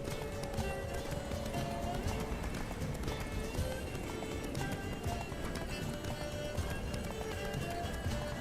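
A horse gallops steadily in The Witcher 3, its hoofbeats a fast, even clip-clop throughout, with wind and someone talking faintly over the ride.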